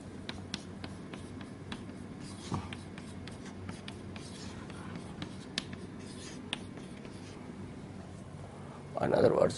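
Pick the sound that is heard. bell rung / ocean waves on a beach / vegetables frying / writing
writing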